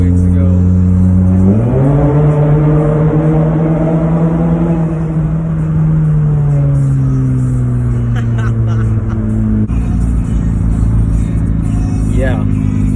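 A tuned Honda CR-Z engine revs up sharply, its pitch climbing and holding high before easing down, loud and close throughout.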